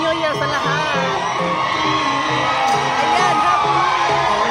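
A Filipino crowd celebrating New Year in Dubai, shouting and cheering loudly and continuously at close range in place of fireworks, with whoops rising over a dense wall of voices.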